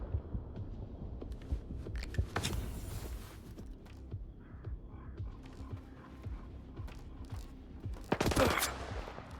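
Bursts of rapid gunfire in the game S.T.A.L.K.E.R. 2: Heart of Chornobyl ring out in a few sharp volleys over a steady low rumble, with the loudest burst near the end.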